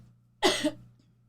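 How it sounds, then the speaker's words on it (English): A single sharp, close cough that rises suddenly and fades out quickly against a faint background hum. "That was a cough."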